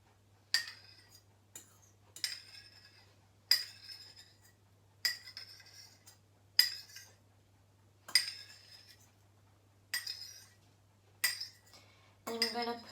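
A spoon scoops yogurt into a bowl, giving about nine sharp metallic clinks at roughly even intervals, each ringing briefly and close by in an otherwise quiet room.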